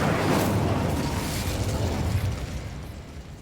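Incendio fire spell cast in Hogwarts Legacy, a broad roaring whoosh of flame that bursts loudly at the start and sustains, slowly thinning over about three seconds, with no talking.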